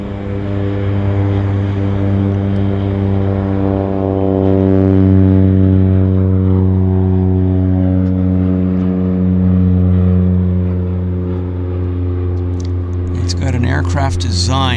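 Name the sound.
Caravan propeller aircraft departing at Vancouver airport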